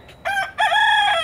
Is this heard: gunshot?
no